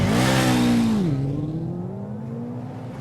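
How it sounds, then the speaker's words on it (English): Kawasaki ZX10 motorcycle engine in the TT Isle of Man racing game, a loud close high rev that drops sharply in pitch, then a lower steady drone that slowly climbs again. "We're going to be in a ZX10 Kawasaki."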